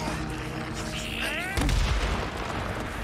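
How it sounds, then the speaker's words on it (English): A grenade blast in the zombie-horde game Days Gone lands midway as a single loud, close boom with a deep low rumble, rising over game noise and a voice in the first half. "Throw a grenade down."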